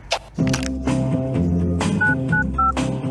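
Touch-tone telephone keypad beeps dialing a car repair shop, a few short paired tones in quick succession over steady background music.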